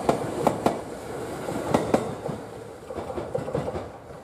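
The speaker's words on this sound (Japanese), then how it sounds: "秋亀山駅の電車を見送り" Commuter train on the Kabe Line passing near Akikameyama station in Hiroshima, a steady rumble with sharp wheel clicks over rail joints, heard from close by and gradually fading.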